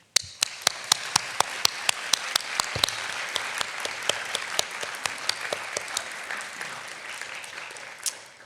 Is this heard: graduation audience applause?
yes